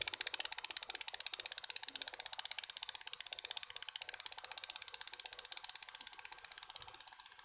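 A simulated LM386 audio amplifier circuit puts out a rapid, even train of clicking pulses, like a fast ratchet, steady for several seconds with no voices.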